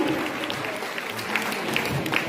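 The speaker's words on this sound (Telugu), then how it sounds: "గట్టి చప్పట్లు" Loud applause from the audience at an Arya Vaishya community gathering in the Yellareddy constituency, a dense, steady patter of many hands clapping throughout with crowd noise beneath.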